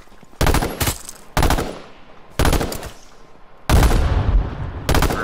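Video game gunfire from H1Z1 on PS4 comes in four or five loud bursts of rapid automatic shots. Each burst lasts about half a second to a second, and short pauses with fading echo separate the bursts.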